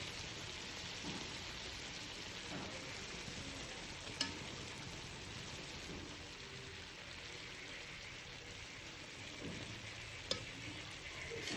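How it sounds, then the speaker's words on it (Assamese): Chicken sizzles in a large wok with a little oil, cloves and cardamom for biryani, a faint continuous frying crackle with a couple of sharp clicks and no talk. "অলপকৈ মাংসখিনি দি গৈছোঁ।"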